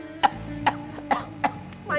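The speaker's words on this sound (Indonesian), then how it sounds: "Lihat, udah mulai batuk-batuk." Four sharp coughs at a steady, fairly even pace followed by a fifth starting at the end, close and fairly loud, with no talking between them.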